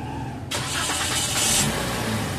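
A Toyota Vios 2025 sedan with a fault that makes it jerk, lose power and stall cranks and catches, then settles into a steady close-up idle.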